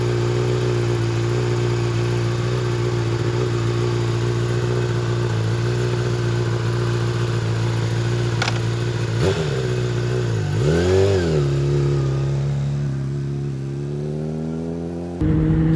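A Honda CBR 600 RR sport motorcycle engine runs at a steady, even drone, then briefly revs up and falls back before settling; it is heard up close and alone.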